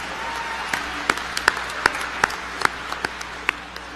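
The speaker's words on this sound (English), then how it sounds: "So, round of applause?" Scattered applause at a 2017 school graduation ceremony, a thin steady patter of clapping from a modest crowd with a few louder individual claps standing out, heard at a moderate distance.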